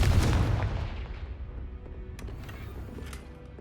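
A Confringo blasting spell exploding in the Hogwarts Legacy video game, a loud booming blast that decays into a rumbling tail, followed by faint crackles.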